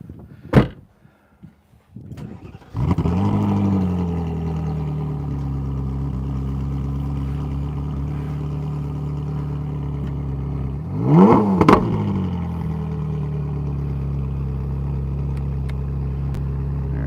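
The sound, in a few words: Ferrari engine starting and revving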